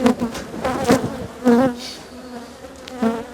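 Bees buzz around an open hive close by, a loud droning hum that swells and fades in pulses as insects fly past.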